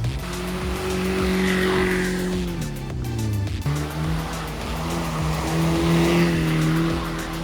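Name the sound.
budget car drifting around tires, tire squeal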